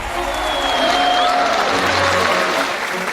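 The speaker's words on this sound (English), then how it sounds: "the audience responded with prolonged and enthusiastic applause." An audience applauds at length after a flag-raising ceremony, a dense and steady wash of clapping that holds at an even level from start to finish.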